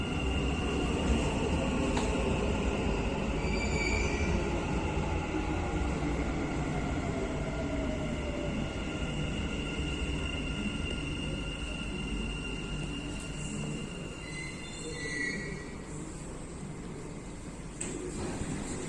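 A Dubai Metro train hums and whines inside a station, with rising and falling electric motor tones over a steady rumble and no voices.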